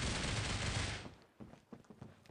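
MP7 submachine gun fire in the Critical Ops mobile shooter, a loud dense burst lasting about a second, followed by a few quieter scattered shots and impacts.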